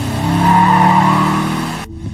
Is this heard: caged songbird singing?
no